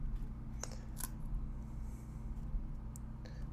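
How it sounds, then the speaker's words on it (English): Old kitchen scissors cut straight across a pickleball paddle grip, giving a few quiet, sharp snips at close range over a low steady background hum. "But all I'm going to do now is cut straight across my grip,"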